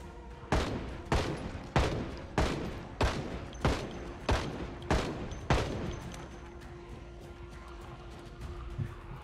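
Gunfire in the Project Zomboid video game: a rapid run of nine loud, evenly spaced gunshots in about five seconds, then a lingering hum and a faint click, with no talk.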